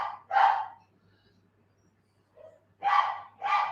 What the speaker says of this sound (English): This is Pui, my oldest dog, singing.